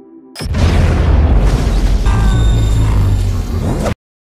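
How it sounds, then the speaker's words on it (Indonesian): A single massive grenade explosion bursts in suddenly and roars loudly for a few seconds with deep rumbling and debris, then cuts off abruptly. "Ledakan grenade membuat The Source mengeluarkan energi yang sangat besar, sehingga membuat Ansel lenyap"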